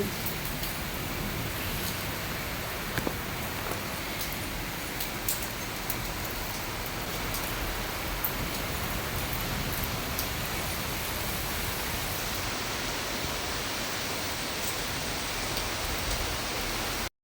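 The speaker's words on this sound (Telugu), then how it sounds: "చూసారు కదండి ఎంత పెద్ద వర్షమో కంటిన్యూగా పడుతూనే ఉంది" Heavy rain falls continuously in the early morning, a dense, steady hiss of downpour heard alone at moderate distance without pauses.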